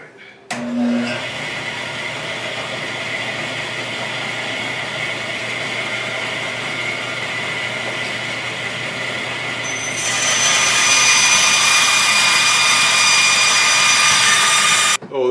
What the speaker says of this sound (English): Got my bandsaw set up over there, and I'll go ahead and cut those sides off and trim those up to fit.